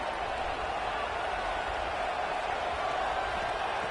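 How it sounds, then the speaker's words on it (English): Broad, steady roar of a packed stadium crowd in College Football 26, a dense wash of cheering noise holding at a constant level throughout with no clear voices standing out. "Listen to this crowd noise. This stadium is vibrating."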